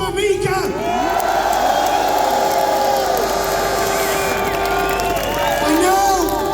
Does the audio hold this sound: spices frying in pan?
no